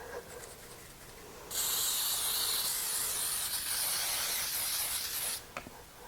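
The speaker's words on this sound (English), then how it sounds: "you can spray it with some nonstick cooking spray that has flour in it" A steady aerosol spray of flour-containing nonstick baking spray hisses for about four seconds, close and fairly loud, then cuts off abruptly.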